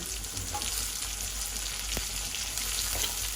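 Chopped onion, curry leaves and green chillies sauté in hot oil with a constant soft crackling sizzle. Faint stirring scrapes sit underneath, and no one speaks.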